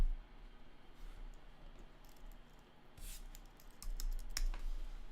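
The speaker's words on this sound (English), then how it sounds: "I go to CoinMarketCap and type it in" Typing on a computer keyboard, faint soft key clicks in uneven bursts, clearer toward the end, over quiet room tone.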